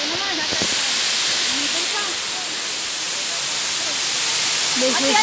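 Steady broadband rush of the middle fall at Ng Tung Chai Waterfall in Hong Kong, loud and continuous throughout, with faint voices and birdlike chirps barely rising above the roar.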